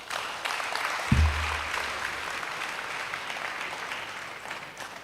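Sustained audience applause at a formal urban development conference after an official's speech, a steady soft wash of clapping with a low thump early on.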